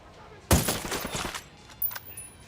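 Sniper rifle fire in the video game Ghost Recon Wildlands: a sharp, loud shot with a crackling, echoing tail, followed by a smaller burst a moment later, fairly close and without talk.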